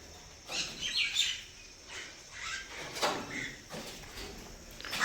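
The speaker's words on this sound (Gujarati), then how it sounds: "આવી ગયા છે કાકડા ને કાબરો." Crows and mynas call outdoors near a temple on a rainy day, with several harsh caws and chattering chirps rising and falling at moderate distance.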